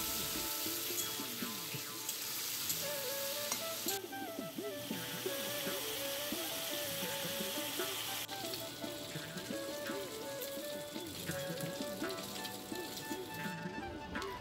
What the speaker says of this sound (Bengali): এবার তেলটা গরম হয়ে গেলে চিংড়ি মাছগুলোকে ভালোভাবে ভেজে নিতে হবে